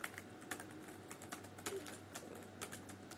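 Fingers type on a computer keyboard, giving soft, irregular clicking keystrokes up close over a faint steady hum, with no talking.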